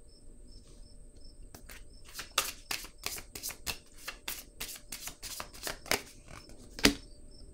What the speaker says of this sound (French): Je vais piger une carte ici sur le couple.